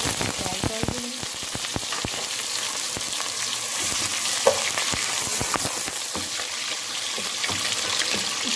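Onions frying in hot ghee, a dense bright crackling sizzle that runs steadily, with a few utensil clicks and stirring knocks early on.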